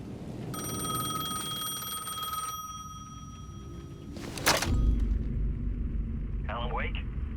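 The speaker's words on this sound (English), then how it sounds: "The payphone was ringing again." A payphone rings in the video game Alan Wake 2, a bright electronic ring lasting a couple of seconds, then a loud sharp crash and deep rumble, with a voice speaking over the scene.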